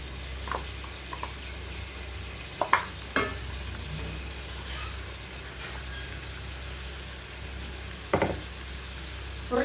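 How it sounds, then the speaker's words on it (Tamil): A ground paste and half-boiled potatoes sauté in a pan for a potato fry. A soft continuous frying hiss runs beneath a low hum, with a few sharp stirring clinks and scrapes scattered through. "இந்த அரைச்சதை போட்டு வணக்கிக்கலாம்"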